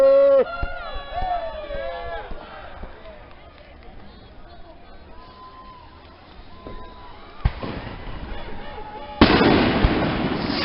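Fireworks mortars going off over a lake on the Fourth of July, deep booms and crackling bursts rolling out at a distance, growing denser and louder toward the end, with people talking and cheering throughout.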